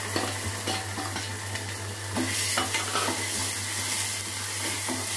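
Ground masala fries in oil in a pan for chicken sukka, with a steady sizzle and repeated scraping stirs of a spoon, close up over a low steady hum.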